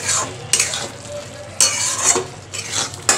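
A ground spice paste made with water fries and is stirred in a pan. Loud sizzling swells in three bursts as utensil strokes scrape and clink against the pan, then settles into a lower hiss between them, with no talking.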